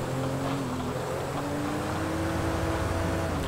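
A car engine in Grand Theft Auto V, said to sound rough, drones steadily throughout with shifting pitch as it drives, close and continuous with no talk.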